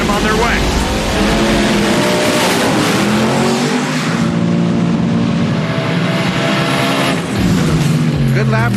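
Race cars launch and run at a Roadkill Nights event, a loud sustained engine roar with rising and falling revs and tire noise throughout, with voices beneath.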